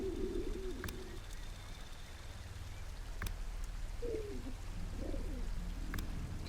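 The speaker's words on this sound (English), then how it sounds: "I really don't like these doves." Doves coo in the ambience of a realistic WW2 sniping video game, with several soft low coos spread over a steady rain-like hiss and occasional faint ticks.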